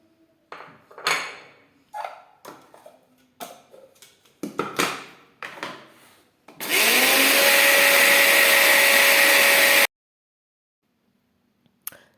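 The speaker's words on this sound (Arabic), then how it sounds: "كيف ما شفتوا البنات كنطحن في العرعار، كنبقى نطحن فيه بهذه الطريقه حتى كنطحنو مزيان" An electric grinder grinds juniper in a steady, loud, high-pitched whine lasting about three seconds, preceded by clattering handling noises and followed by silence.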